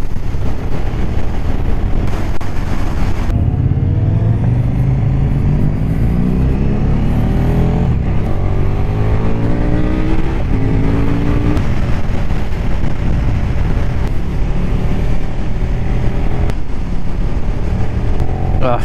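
A motorcycle engine revs and pulls loudly up close on a group ride, its pitch sweeping up and down through gear changes, with some speech under the noise.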